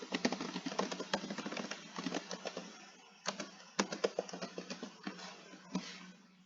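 Rapid typing on a computer keyboard while entering data into SPSS, a close, dry patter of key clicks in quick bursts with brief pauses.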